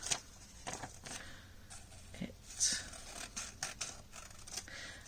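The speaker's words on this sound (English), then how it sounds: "So I'm just going to cut this t-shirt out" Scissors snip out a paper t-shirt shape in quiet, close, irregular bursts of crisp cutting strokes.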